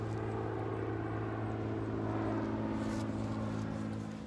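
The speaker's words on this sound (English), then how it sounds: "Like that plane." An airplane drones overhead at a distance, a low steady hum that swells slightly and fades toward the end, heard outdoors without speech.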